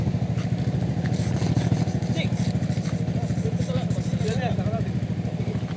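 A motorcycle engine idles and putters steadily at close range while the bike is backed up, its rapid low throb continuing throughout as people chatter over it.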